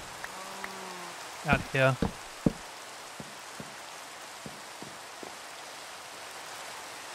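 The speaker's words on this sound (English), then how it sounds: "This rain is really annoying." Steady rain falls in the blocky survival game Minecraft as a soft, even hiss with scattered droplet ticks. A person speaks briefly over it near the start.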